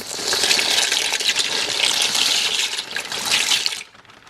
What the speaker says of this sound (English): To this turkey broth, I am going to add the noodles,